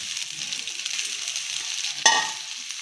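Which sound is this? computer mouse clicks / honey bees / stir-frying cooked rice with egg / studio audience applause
stir-frying cooked rice with egg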